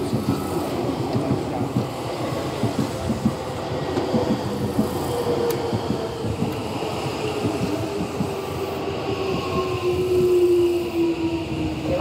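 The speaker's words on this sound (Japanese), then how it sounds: "電車到着です。" A yellow Seibu 6000 series train rolls into Tamagawajosui Station with a steady rumble and rhythmic clatter of wheels, plus a high squeal of brakes as it slows.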